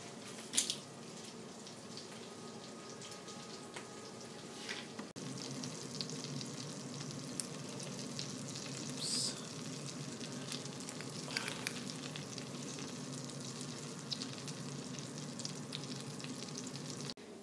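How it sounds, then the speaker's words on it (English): Garlic crushed straight into melted butter on a stovetop pan for an Alfredo sauce, giving a steady, moderate sizzle with faint crackles and drips throughout, no voices present. "I'm just gonna crush it right on the stove on top of the melted butter"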